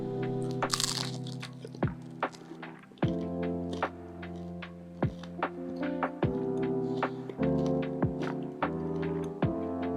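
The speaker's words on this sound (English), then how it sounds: "You can hear how crunchy it is. Such a good crust." Crisp, crunchy bites into the crust of homemade gluten-free bread, recorded close up as a series of sharp crackling crunches in a steady chewing rhythm.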